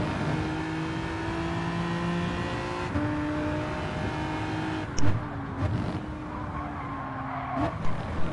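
Racing video game at Laguna with cars sliding and spinning out, a steady engine drone and tire skid tones bending in pitch, a couple of brief knocks near the end.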